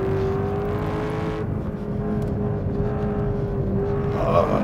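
A McLaren 650S Spider's V8 revs hard on a race track, a loud sustained engine drone climbing in pitch, easing briefly before pulling again from inside the car.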